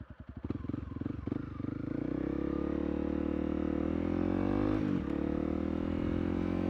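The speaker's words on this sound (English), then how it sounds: "This bike does not like to be lazy shifted at all." Honda CRF300L motorcycle engine while riding, revving up from a rough start into a steady, loud drone, with a brief dip and shift near the end.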